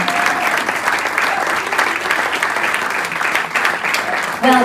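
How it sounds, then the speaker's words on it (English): An audience at a community awards ceremony gives loud, sustained applause for an award winner, a dense wash of many hands clapping, with a voice breaking in right at the end. "Massive round of applause"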